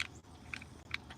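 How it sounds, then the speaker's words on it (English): A barbecue lighter is clicked close by: three or four short, sharp plastic clicks spaced about half a second apart, faint and alone. "This is a barbecue lighter."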